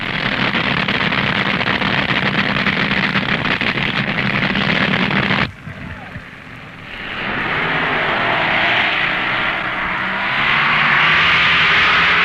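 Nitro drag racing cars at the 1969 NHRA US Nationals, a loud sustained engine roar that cuts off abruptly midway as one engine blows at the finish, followed by a rising, more distant rumble.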